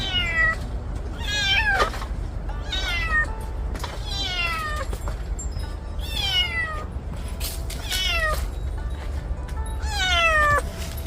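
A kitten that has lost its mother meows repeatedly, sharp rising-and-falling cries coming every second or two, close and loud over a steady low background hum.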